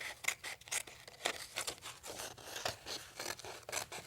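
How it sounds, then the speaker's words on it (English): Scissors snip through parchment in a quick, irregular series of crisp cuts. The sound is close and quiet, with small papery rustles between the strokes. "But what you have to do is cut your parchment."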